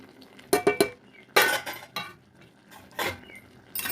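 Green chillies, cumin powder, meat masala, cardamom and chilli powder go into a bowl of meat, heard as close metallic clinks and clatters of a spoon against the dish in quick irregular bursts.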